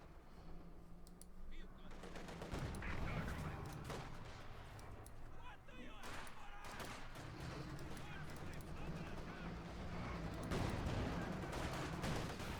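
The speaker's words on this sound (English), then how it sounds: "Shots fired." Gunfire from a Company of Heroes 2 match between German forces and Soviets, with scattered shots and bursts in the mid-distance over a dense battle background, while a commentator talks throughout.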